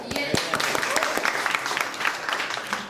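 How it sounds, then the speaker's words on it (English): Applause in a group discussion on India's reservation system, a room of people clapping with distinct sharp hand strikes over about three seconds, close and fairly loud. "I think we all should clap for Mr."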